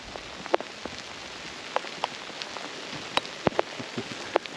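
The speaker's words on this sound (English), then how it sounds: "Wow, it's raining like crazy now." Heavy rain pours down in a steady broadband hiss, with sharp drops striking a nearby surface in irregular loud taps, on an outing near a parked Jeep at a crawfish boil; no one talks.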